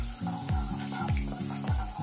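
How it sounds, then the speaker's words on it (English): Cardamom, cinnamon stick and cloves sizzle in hot oil in a pan while a spoon scrapes through them in steady, evenly spaced strokes, roughly three stirs over two seconds, close and clear with no talking. "give this a small stir, and saute until the nice aroma arises"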